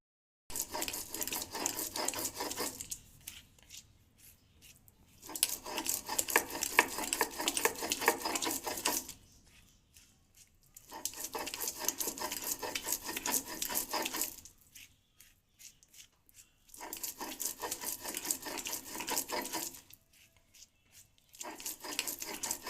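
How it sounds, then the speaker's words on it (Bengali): Grated taro (arum) is ground into a paste in four long whirring, rasping bursts separated by short silent pauses, close and steady. "এবার বেটে নেব বেটে নিয়েছি আর একবার বেটে নেবো"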